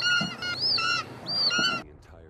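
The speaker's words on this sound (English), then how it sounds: "Wait, is that a bird?" Honking goose-like bird calls from the Call of Duty: Advanced Warfare video game, two drawn-out nasal honks with short chatter between, fairly loud and close, with no talking.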